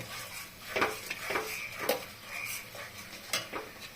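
A spoon scrapes and taps in a pan while paneer biryani masala with cashew paste is stirred. The irregular soft clinks and scrapes are close, with a faint sizzle underneath.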